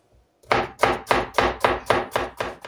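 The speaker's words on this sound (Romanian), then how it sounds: "o să-mi tau și mărarul" A knife chops fresh dill on a cutting board in eight quick, evenly spaced strokes, each a crisp, loud knock with a short swish. The chopping is close and runs alone, with no talking.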